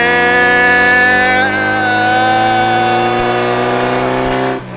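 Meyers Manx beach buggy from the 1970s, its engine pulling hard and loud close by through first and then second gear, with a steady rising drone that shifts pitch around the change and drops away at the end.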